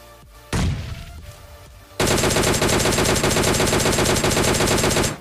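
Gunfire in the mobile battle royale PUBG Mobile Lite: one loud shot with a ringing tail, a short pause, then a sustained rapid automatic burst lasting about three seconds before cutting off.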